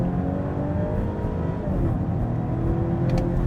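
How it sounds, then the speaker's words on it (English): A 2025 Volvo V90 B6 Cross Country accelerates hard in a 0 to 60 run, its engine a loud, continuous drone rising steadily in pitch, heard from inside the car with no talking. "let me try another 0 to 60 run here"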